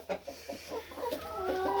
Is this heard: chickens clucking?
yes